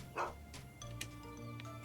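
In Fallout TTW, a dog lets out a quick bark near the start, then a couple of softer yips. Game music hums steadily underneath.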